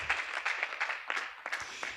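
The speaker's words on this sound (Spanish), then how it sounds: "Fuerte aplauso para dar la bienvenida." Audience at an architecture networking event applauding to welcome a speaker, a light scattering of individual claps with uneven rhythm, fairly close and modest in volume.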